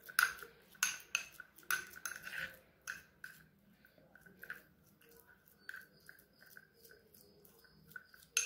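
A spoon mixes an orange peel powder face pack in a small bowl, giving quick clinks and scraping taps against the bowl, busier at first and then softer and more spaced out, close and fairly quiet.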